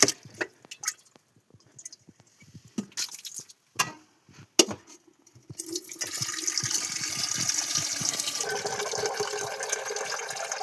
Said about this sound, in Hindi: अभी मुझे ना इसमें पानी भर के रखना है